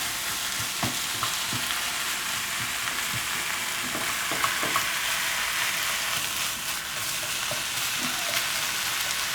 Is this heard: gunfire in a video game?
no